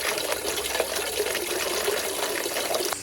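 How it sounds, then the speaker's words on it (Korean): Groundwater gushing from an open outdoor tap at a countryside campsite, a loud steady splashing rush like a stream, continuous and close, with no voices. "뒤에 지하수 물을 좀 틀어놨어요. 원래 좀 틀어놔야 되나 봐요. 저 소리가 계곡 소리 같아요."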